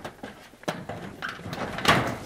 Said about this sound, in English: This is not the easiest door to get open.